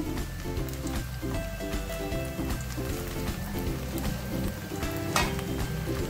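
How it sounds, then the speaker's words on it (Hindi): Masala egg bhurji with onions fries on medium heat in a dense, continuous, rain-like sizzle, heard close and loud under background music throughout. "1 से 2 मिनट के लिए और फ्राई करेंगे। इसको हमने मीडियम आंच पे पकाना है।"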